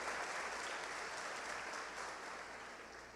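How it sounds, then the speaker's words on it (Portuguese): A church congregation at Paz Church Macapá applauds during a worship service: dense, steady clapping that stays fairly even and softens slightly toward the end. "Aplauda o nome de Jesus."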